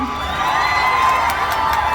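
A crowd at a live fan event with a Thai singer cheers and shouts, a dense, loud wash of voices and whoops rising slightly mid-way, with scattered claps.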